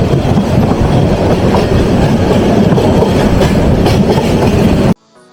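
A moving train's carriage rumbles loudly from inside, its wheels clattering steadily over the rails in a dense, continuous roar that cuts off abruptly near the end.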